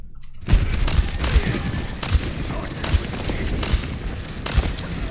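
Gunfire in the Overwatch video game, repeated sharp shots and impacts at irregular intervals amid busy game noise throughout.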